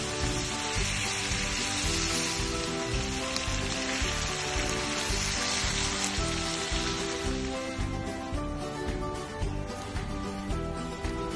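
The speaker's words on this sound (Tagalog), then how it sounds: "Bantayan mabuti ang piniprito kasi mabilis itong masunog dahil sa toyo." Soy-marinated pork chop frying in hot oil, a dense, loud, continuous crackling sizzle like rain on a surface, close and unbroken, with no voices.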